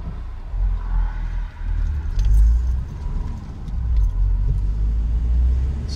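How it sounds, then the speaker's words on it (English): A car drives up a mountain road, its engine and tyres giving a steady low rumble from inside the cabin, with light rattling over the top and no talking. "we're going to go drive up to the mountain"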